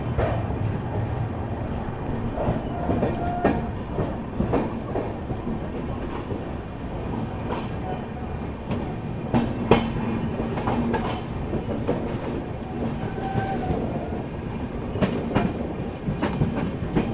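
Secunderabad Duronto Express running after leaving Balharshah station, heard from inside the train as a loud, steady rumble with rhythmic clickety-clack of wheels over rail joints and occasional squeaks and rattles.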